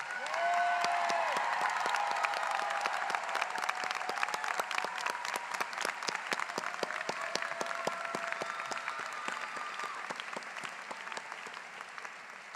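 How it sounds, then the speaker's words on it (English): Commencement crowd at Skidmore College applauds its faculty: a broad, sustained wash of clapping from a large outdoor audience with distinct nearby claps standing out, fading slowly over about twelve seconds. "I invite you to join me in applause for our Skidmore faculty."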